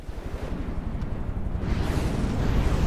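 A ship's turret detonating in a space combat game, a sustained roaring explosion with heavy low rumble that swells louder over a few seconds, with no talking over it.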